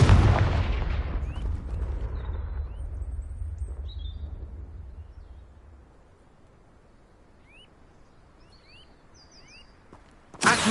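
A Confringo blasting spell explodes in the video game Hogwarts Legacy, a loud, deep blast at the start that rumbles and fades over several seconds, with faint chirping bird calls after it and a sharp burst at the very end.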